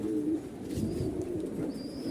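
A pair of Lotan pigeons coos softly on a loft farm, low rolling calls repeating close by against steady background noise.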